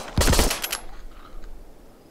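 Rapid burst of gunfire from a weapon in the VR shooter Arizona Sunshine, a dense loud volley lasting about half a second before dropping away to faint game ambience.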